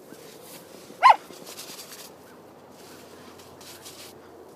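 An Australian Shepherd puppy playing in the snow outdoors gives a single short, sharp bark near the start, then quiet outdoor ambience with faint rustling follows.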